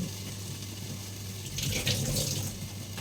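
A water tap runs steadily into a sink while hands are washed, with a continuous close rush that swells in the middle with splashing.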